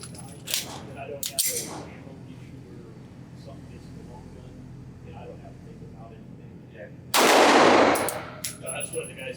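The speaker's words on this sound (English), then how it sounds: "I'm going to set the target at 25 yards and shoot this from a bench" Beretta 92GTS Centurion pistol fired from a bench at an outdoor range at 25 yards, a few sharp loud reports spread across the clip with one especially strong blast near the end, amid faint background noise.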